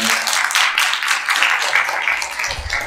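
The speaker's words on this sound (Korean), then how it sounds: "다시 한번 큰 박수 부탁드립니다" Audience applause after a lecture and Q&A session in a hall, a steady, fairly loud wash of clapping lasting the whole moment, with faint low rumble near the end.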